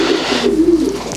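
Racing pigeons in a breeder's loft give several close, low warbling coos in a row, fairly loud and unaccompanied by speech.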